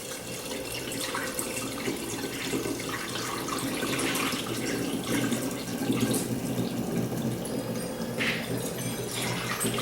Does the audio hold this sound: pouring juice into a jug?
yes